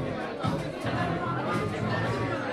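Crowd chatter as guests arrive at an indoor red carpet event with a step and repeat: a steady, dense babble of many overlapping voices at moderate loudness, continuous throughout.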